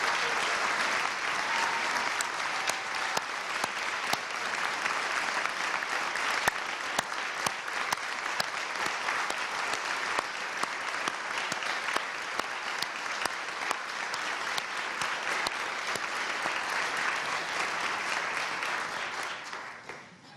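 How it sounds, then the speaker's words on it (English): Sustained audience applause fills a hall at the Virginia State of the Commonwealth address, a dense, steady clapping from a large crowd lasting about twenty seconds before tapering off at the end. "Please give them a round of applause."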